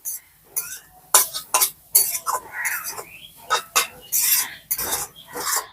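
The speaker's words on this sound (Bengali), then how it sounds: "আর এই নারকেল কোড়াটাকেও কিন্তু একদম হালকা আছে নাড়াচাড়া করতে হবে" Grated coconut is dry-roasted in a pan with repeated, rhythmic scraping strokes of a spatula. The bursts of gritty rasping and metal clinks sound close and fairly loud.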